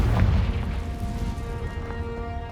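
A Confringo fire-blast spell explodes in Hogwarts Legacy with a loud, deep boom at the start, then fades under ringing tonal game sounds.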